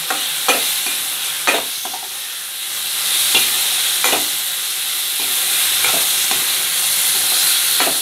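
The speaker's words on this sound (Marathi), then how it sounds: "ही डाळ तेलावर छान परतून घ्यायची आहे" Chana dal sizzling and frying in hot oil in a pan while making gram dal chutney, a steady crackling hiss with several sharp stirring scrapes, close and continuous with no voices.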